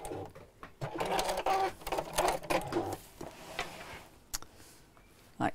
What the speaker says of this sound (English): so we'll just sew a little way down there